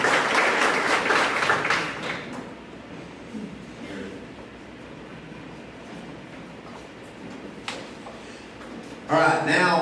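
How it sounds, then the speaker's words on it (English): Audience applause fills a tennis team banquet for roughly the first two seconds, dense and close, then fades into room murmur before a short second burst of clapping near the end. "If you'd give them a big round of applause."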